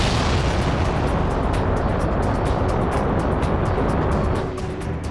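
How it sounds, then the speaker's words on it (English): A heavy rocket launch vehicle lifting off on a column of flames, a dense, loud and continuous roar that rumbles steadily before dropping slightly near the end. "the blast furnace of flames lifting a heavy launch vehicle off"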